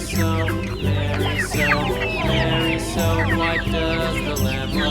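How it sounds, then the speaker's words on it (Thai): Chickens at a farm in Pathum Thani, Thailand, being fed by hand cluck and chatter close by, many birds calling at once in a busy, continuous flock noise. "ตอนนี้เราป้อนไก่จากมือเลยนะครับ"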